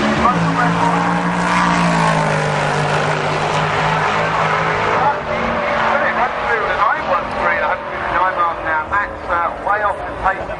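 A drag racing Opel GT launches alongside another car at Bug Jam, engines roaring loudly with rising, stepping revs through gear changes, over an excited commentator's voice throughout.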